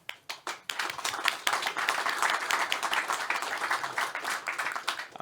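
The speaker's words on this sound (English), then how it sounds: "I would like to ask for a big round of applause for the panelists today" An audience at a regional innovation forum applauds the panelists: a few scattered opening claps quickly swell into full, steady clapping from a crowd that carries on without pause.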